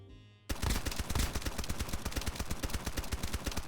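A flaming AK in the video game Escape from Duckov fires a long, rapid automatic burst, with dense, evenly spaced loud cracks starting suddenly and continuing without a break.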